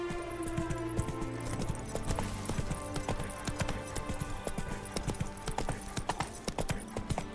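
Roach the horse trotting in The Witcher 3, a steady, brisk clip-clop of hooves with light jingling tack, close and continuous over a low ambient bed.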